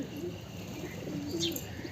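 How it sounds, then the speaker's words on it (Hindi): Pigeons coo softly in a rooftop loft setting, low murmuring calls drifting at moderate distance with a faint chirp and light background noise. "कुछ कबूतर वहाँ उड़ रहे हैं"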